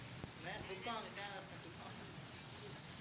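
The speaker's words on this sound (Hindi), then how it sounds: "बारिश की आवाज़ें आपको सुनाई दे रही होंगी।" Steady rain patters in a village while a person speaks briefly over it, the downpour continuing after the voice fades.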